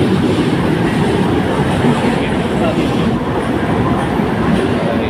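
Loud, constant rumble and roar of an LRT light rail train in motion toward Pasay, heard from inside, steady throughout with a faint high whine.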